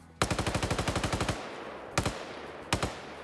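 In a video game, a machine gun rips off a rapid burst of about a dozen close shots at a terminal, then fires two separate single shots after short pauses.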